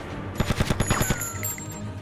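Rapid automatic gunfire in Grand Theft Auto Vice City, a quick burst of about eight closely spaced shots, loud and near, trailing off into ringing game ambience.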